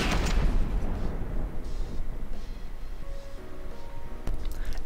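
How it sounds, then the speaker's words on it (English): Fragmentation shell blasts from a CRAM cannon in the naval combat game From The Depths, with 180-degree fragmentation: a dense, continuous rumble of loud overlapping explosions and booms, with a sharp crack near the end. "Here we have a frag shell, 180 degrees fragmentation."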